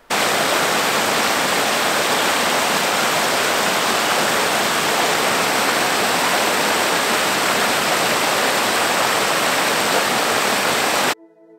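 A river rushes through a New Zealand forest canyon, a dense, loud and even roar of flowing water that holds steady for over ten seconds before cutting off abruptly.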